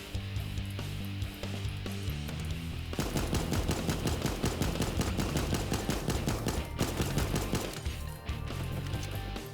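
An M16 firing in the Super Animal Royale video game, starting with sparse shots and then breaking into a long loud burst of rapid automatic gunfire that briefly pauses and resumes.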